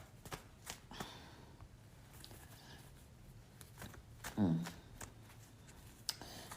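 Playing cards being shuffled by hand in a quiet indoor setting, a soft, steady riffling texture running throughout with one brief louder burst partway through; no talking.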